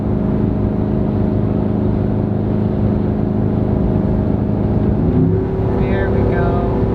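A 2018 Chevrolet Silverado's engine drones steadily while climbing the Fancy Gap grade, then its pitch shifts upward as the transmission downshifts near the end, with road and wind noise throughout.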